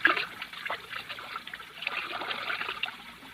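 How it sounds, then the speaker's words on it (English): Whiskey being poured out trickles and splashes in a continuous, close stream, starting with a sharp first gush and then running on steadily as a bright liquid patter with no talk. "Pour most of it out, so that it will look as though we had even more to drink."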